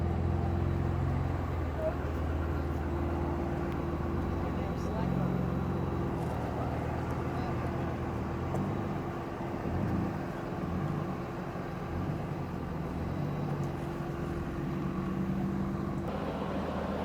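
A Jeep and a tractor rumble steadily under strain for a long stretch, pulling a camper uphill: a low continuous motor drone with faint mechanical clanks, close by.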